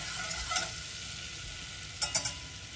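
Quiet, steady sizzling of butter browning in a pan, with a few faint clicks and taps of a utensil near the end.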